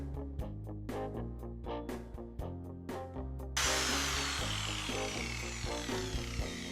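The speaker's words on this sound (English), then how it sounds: "I'm going to attack it with a grinder, so put your fingers in your ears or something" An angle grinder cuts filler out of a rusty sill on an MK3 Ford Zephyr. Rapid rhythmic bursts give way to a continuous harsh, loud grinding, with no talk.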